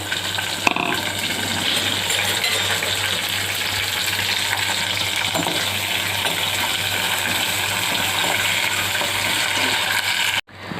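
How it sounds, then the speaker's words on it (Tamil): Onions and curry leaves fry in hot oil in a pan for sinthamani chicken, making a loud, continuous crackling sizzle that runs steadily and then cuts off abruptly near the end. "வெங்காயம் கருவேப்பிலை போட்டு நல்லா வதக்கணும்."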